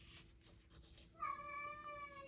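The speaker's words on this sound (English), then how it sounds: "my cat is yelling" A pet cat meows loudly indoors, one long drawn-out yowl that begins partway through after quieter room noise.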